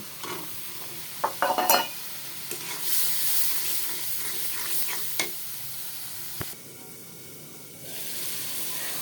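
Chopped potatoes and shrimp frying and being stirred, a close sizzle with sharp scrape and clatter bursts early on, quieter stretches of hiss, and a louder steamy rush near the end.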